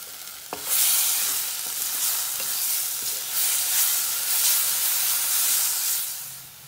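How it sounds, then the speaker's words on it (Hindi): Onion and garlic paste frying in a pan for onion chutney, giving a steady loud sizzle and hiss with a brief tap at the start and faint stirring throughout. "और अब हम इसमें प्याज डालते हैं जो हमने पेस्ट करके रखा है"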